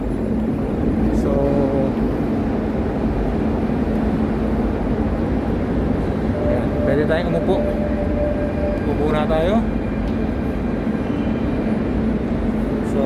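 A Barcelona metro train rumbles steadily at a station, with a broad, constant roar throughout; a few brief voices speak over it.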